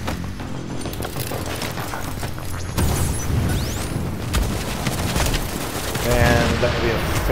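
Fast-firing, high-capacity turret gun in a video game shooting in dense, rapid bursts, a continuous loud rattle of shots with booms and mechanical clanks mixed in.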